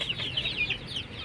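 Native free-range chickens cluck in a backyard home coop, several birds making overlapping, fairly close clucks and chirps in a busy, continuous chatter.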